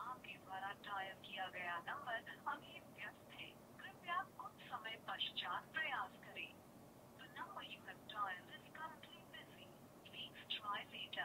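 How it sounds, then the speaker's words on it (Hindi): A Fire-Boltt Apollo 2 smartwatch's small tinny speaker carries a muffled Bluetooth phone call, a voice talking in short bursts over a faint hum, quiet and thin. "तो चलिए इस नंबर पर कॉल करते हैं"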